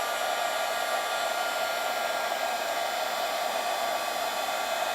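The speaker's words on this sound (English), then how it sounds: "I'm going to emboss this using my heat tool" A heat tool melting white embossing powder blows a loud, steady, even whirring roar, unbroken throughout with no talk.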